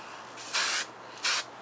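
Two short, bright hisses of an aerosol hairspray can, each lasting about a quarter second, close by with a brief pause between them.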